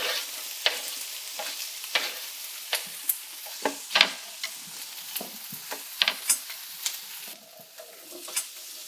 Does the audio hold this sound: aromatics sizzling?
yes